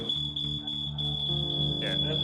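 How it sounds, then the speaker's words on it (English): A smoke alarm that has been tampered with keeps sounding in a smoky room, a steady high-pitched electronic tone running continuously under a busy background with low hum and faint voices. "He's tried to tamper with the alarm just to stop that audible alarm"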